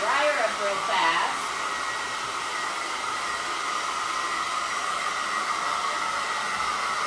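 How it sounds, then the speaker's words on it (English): A handheld blow dryer runs on wet paint on a craft gnome, a steady close hiss and whoosh that holds evenly for several seconds after a slightly louder start. "You can see the paint drying as I'm using my blow dryer."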